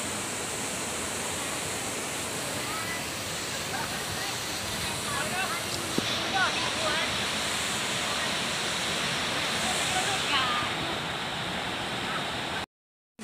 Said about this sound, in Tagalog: Dito na tayo guys sa Tongtong Falls. Ang ganda talaga ng pagka-falls niya, no?